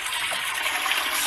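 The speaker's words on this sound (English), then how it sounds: "I'm gonna flush it." A toilet flushing in the Roblox video game, a brief steady rush of water that fills the whole clip at moderate, even loudness, with no voices over it.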